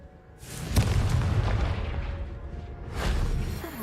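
A Confringo spell exploding in the video game Hogwarts Legacy: a loud, deep blast followed by a rumbling tail, then a second, slightly softer boom about two and a half seconds later, with no talking.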